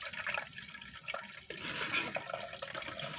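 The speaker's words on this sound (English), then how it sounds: "So I'm straining it. Alright, just pour it in" Carrot and beetroot juice poured into a strainer, a steady close liquid splashing and trickling with brief clinks against the container, continuous and fairly soft throughout.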